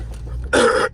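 A single harsh cough bursts out close up inside a car after a quiet moment, followed by a brief second catch of breath.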